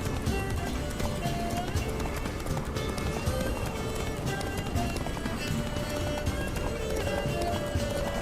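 Horse galloping in The Witcher 3, a steady loud run of hooves under a dense bed of game music and effects, continuous across the whole stretch with no pause.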